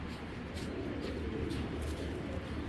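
Giribaz pigeons, including a silver hen, coo faintly in a loft, a soft low continuous murmur of cooing with no voices.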